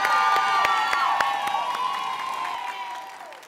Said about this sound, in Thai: ขอเสียงปรบมือให้กับทั้ง3โชว์ของเราในวันนี้ด้วยครับ